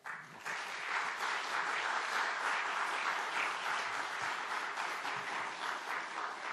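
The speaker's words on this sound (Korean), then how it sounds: "이제 이만성 목사님 나오실 때 우리 큰 박수로 맞이하겠습니다" A church congregation gives a pastor a big round of applause as he comes forward, a dense, sustained clapping from many hands that starts abruptly and continues evenly throughout, with no voices.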